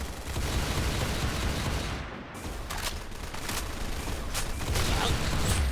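Dense, continuous gunfire from a shooting video game, with rapid overlapping shots and bursts sustained across the whole stretch at a steady loud level, with a brief dip midway.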